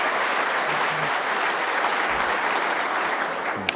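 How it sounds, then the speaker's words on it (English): The Crucible crowd applauds a snooker shot with dense, sustained clapping at full strength throughout. "He's certainly got the Crucible crowd cheering him on"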